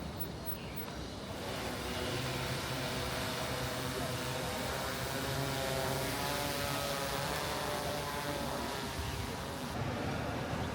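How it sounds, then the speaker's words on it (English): Several delivery drones pass overhead at the Futian border checkpoint, producing a steady, fairly loud whirring propeller drone that holds for about ten seconds. "a few more drones came over for more drop-offs"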